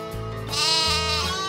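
A single sheep gives one loud, close, wavering bleat lasting over a second, set in a farmyard market scene with no talk over it.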